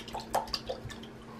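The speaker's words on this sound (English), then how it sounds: "I'm just going to dunk the brush in here like this." A makeup brush dunked and swished in a small dish of soapy water, giving faint, close splashes and drips in a quiet room.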